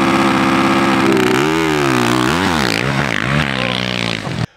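A 2023 Yamaha YZ450F motocross bike engine revs loudly and close, its pitch rising and falling through several sharp throttle blips before cutting off abruptly.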